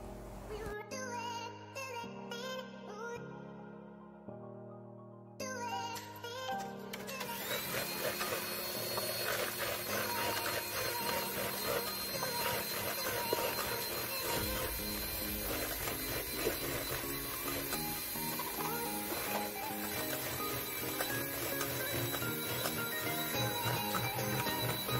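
An electric mixer beats sugar into pudding batter, its steady, dense motor whir running continuously at close range after a brief musical opening and staying loud to the end.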